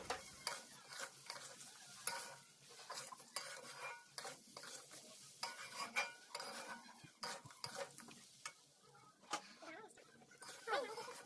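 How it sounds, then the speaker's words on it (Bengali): Basanti pulao rice being stirred in a frying pan, a busy run of utensil scrapes and clinks against metal with a light sizzle underneath, close and steady throughout. "অল্প নাড়াচাড়া করতে হবে ভালো মতো আন্দাজ মতো নেড়ে দিয়ে দেবো জল"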